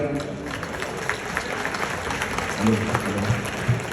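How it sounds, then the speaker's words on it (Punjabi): Audience applause for comedian Nasir Khan at a Pakistani comedy show in New Zealand: a steady wash of clapping across the whole clip, moderately loud, with a few scattered claps standing out. "ਨਾਸਰ ਖਾਨ ਸਾਹਿਬ ਕੇ ਲਈ ਬਹੁਤ ਸੀ ਤਾਲੀਆਂ"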